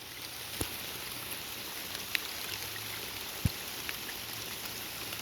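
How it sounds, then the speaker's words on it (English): Wet-weather waterfall running after a storm, a steady broadband rush of falling water with a few faint drips or knocks standing out over the constant flow. "It is a wet weather waterfall."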